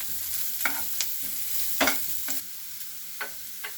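Food frying in a pan with a steady soft sizzle, punctuated by several sharp spatula scrapes and clacks as it is stirred, close and moderately quiet.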